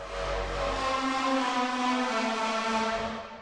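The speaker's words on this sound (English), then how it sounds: "full sound that goes through a wet reverb" A sustained, washy synth chord drenched in reverb, bright and hazy, holding steady for a few seconds with no other sounds.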